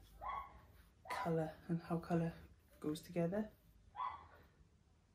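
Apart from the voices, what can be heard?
neighbour's dog barking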